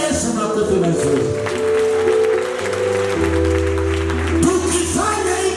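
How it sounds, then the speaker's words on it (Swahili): A church congregation claps for Jesus during a sermon, steady applause running under loud music with sustained low tones throughout. "pigia Yesu makofi mazuri."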